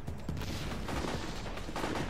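Gunfire crackles steadily through a match of the video game Battlefield 2: Modern Combat, a dense continuous stream of shots and battle noise with slightly sharper bursts near the start and end.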